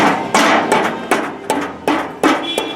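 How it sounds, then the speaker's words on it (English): A rubber hammer taps a bearing onto the shaft of a Baldor 2HP electric motor on a workbench, six or seven sharp, evenly spaced knocks, close and fairly loud, each ringing briefly. "that's why I like to use a slight rubber hammer here"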